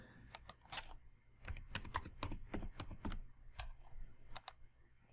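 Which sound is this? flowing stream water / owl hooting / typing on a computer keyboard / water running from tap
typing on a computer keyboard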